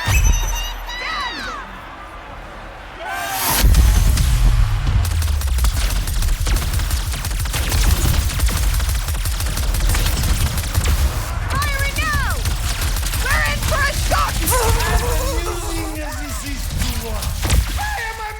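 Dense battle gunfire in Ratchet and Clank: Rift Apart, a loud continuous barrage of rapid shots and crashes running under shouted voices and game noise.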